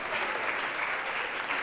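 An audience claps for a school team at a cooking competition final, steady dense applause from a crowd, moderately loud and continuous throughout the short burst.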